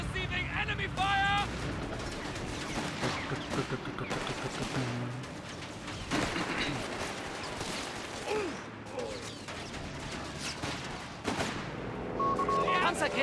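Enemy fire in a Company of Heroes 3 multiplayer battle, with dense bursts and rattling shots throughout, while radio-style unit voices call out over the clamor.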